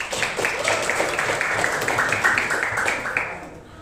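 A classroom group applauding after a presentation, a steady moderate patter of many hands clapping for a few seconds before tapering off.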